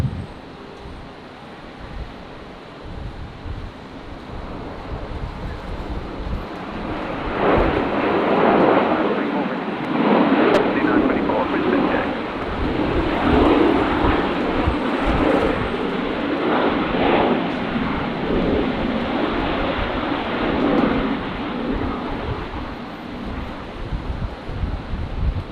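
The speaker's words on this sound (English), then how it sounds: "So Rex 202 arriving now from Melbourne, 19 left." Rex airliner landing at Brisbane on runway 19 left in gusty 25-knot crosswinds, a rumbling jet roar swelling and fading over wind buffeting on the microphone, with a voice heard intermittently.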